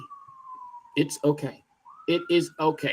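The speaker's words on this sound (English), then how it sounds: "My apologies for the siren." A police siren wails in the background with a long falling then rising tone, faint and steady beneath a voice speaking short phrases during a live show.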